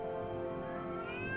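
A cat in the video game Foolish Mortals gives one drawn-out, clear meow that rises in pitch at the end, close and alone.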